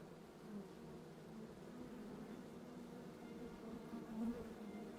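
A steady drone of many bees buzzing close by, continuous and fairly even in loudness throughout, with no voices.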